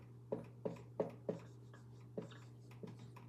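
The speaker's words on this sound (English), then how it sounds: "I'll write it again" A word is written on a board in a run of short, crisp strokes and taps, four close together and then a few sparser ones, quiet and near over a steady low hum.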